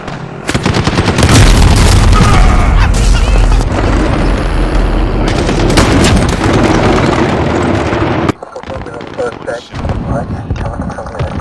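Loud booming gunfire and cannon blasts in Call of Duty: Modern Warfare pound continuously, with voices shouting over the barrage before it abruptly drops away.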